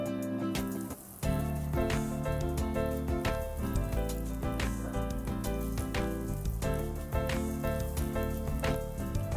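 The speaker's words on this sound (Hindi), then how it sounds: "अब हम इसे डीप फ्राई कर लेंगे" Cheese-stuffed mushrooms deep-frying in hot oil over high heat, a steady dense sizzle and crackle with a few bursts of sharper popping. The sound is close and continuous, with no talking.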